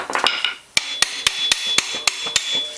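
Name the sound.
hammer hitting a puller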